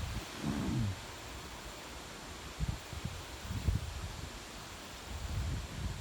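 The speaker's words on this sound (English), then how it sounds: "It's supposed to be like windy like this all day." Strong gusts from an approaching tropical storm buffet the microphone in low, rumbling bursts, with a faint rustling wash behind them and no talking.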